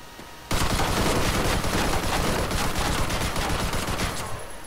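Sustained automatic gunfire striking tough buildings in a war video game, a dense continuous rattle of rapid shots, loud and close, running for several seconds without pause.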